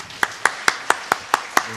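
At a church mothers' prayer meeting, hands clap in a quick, evenly spaced rhythm to welcome a speaker, about eight crisp, close claps in under two seconds.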